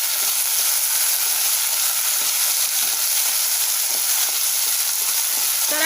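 Potato, tomato and green chillies sauté in a pan with a loud, steady, close hiss and crackle that runs unbroken throughout, with no talking.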